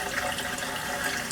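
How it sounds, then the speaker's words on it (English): A bathroom faucet newly upgraded and turned over to hot, with water running steadily in a continuous broadband hiss and no talk over it. "we're going to turn the water on and see if it worked"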